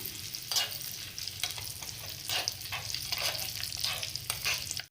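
Cashews, cumin, pepper and curry leaves roast in oil and ghee in a pan for pearl millet pongal, with a steady soft sizzle and the intermittent scrape of stirring, heard close and fairly quiet.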